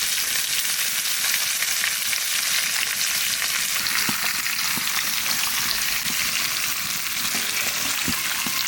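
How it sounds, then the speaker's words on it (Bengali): Fish frying in hot oil crackles and spits continuously, close and steady, with occasional louder pops from the pan and no voices. "এই মাছ যদি কাঁচা ভাজা হয় ব্যাস, তাহলে আর কেউ থাকতেই পারবে না, এত ফোঁটা ফুটবে।"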